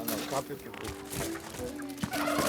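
A farm turkey gobbles in quick, bubbling bursts, close and fairly loud, with other barnyard noise around it.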